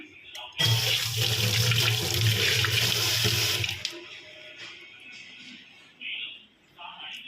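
Water runs from a tap for about three seconds with a steady rush while washing meat, then stops, followed by soft handling sounds and a brief splash.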